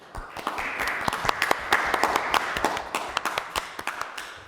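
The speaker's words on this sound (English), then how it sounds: "You should give yourselves a round of applause." A modest round of applause from an audience at a Fitchburg city councilor-at-large candidate debate, with scattered individual claps that thin out toward the end.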